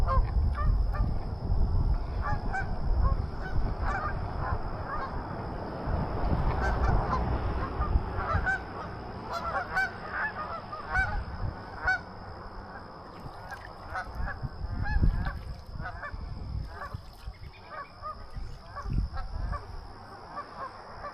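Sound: geese honking on water

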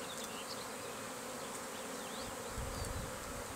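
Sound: bees buzzing in an open drone hive

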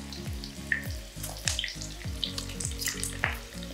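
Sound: ingredients cooking in a pan for a wrap

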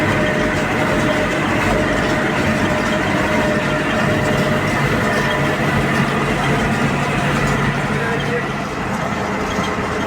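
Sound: YUMZ tractor driving, pulling a baler

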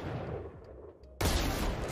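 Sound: sniper rifle gunshot in Valorant video game

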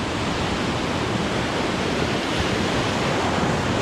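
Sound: beach surf in Trinidad

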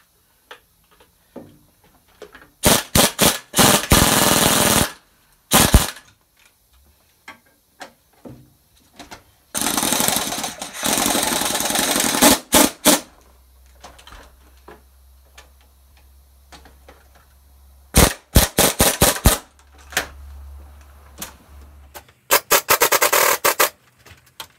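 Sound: impact wrench tightening strut nut

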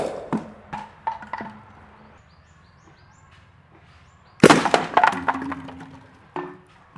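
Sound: homemade launcher shooting soda bottles

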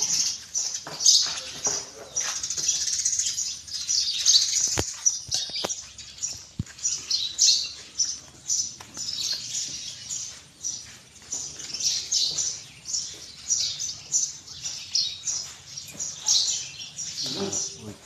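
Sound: egrets calling

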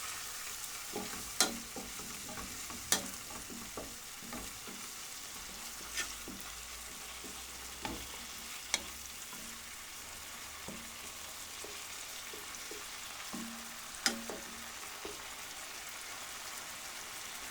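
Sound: minced meat being stirred while frying in a pan

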